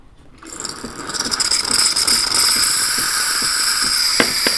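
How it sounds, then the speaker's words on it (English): A DeLonghi Linea Classic EM450M espresso machine's steam wand starts up and hisses loudly and continuously, with a fluttering, rattling pulse underneath and a couple of brief clicks near the end. "As you can see, the steam is not very strong."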